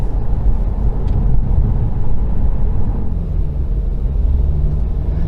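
Inside a moving Jaguar XE with a 2-litre diesel engine, a steady low engine drone and road rumble fill the cabin, constant and moderately loud with no voices.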